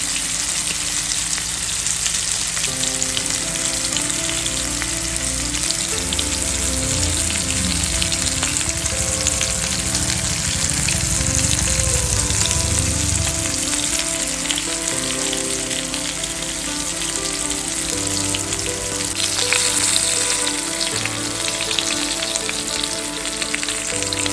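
Varal (murrel) fish shallow-frying in a pan, Kerala style, with a steady loud sizzle and crackle of hot oil that runs continuously with no talk.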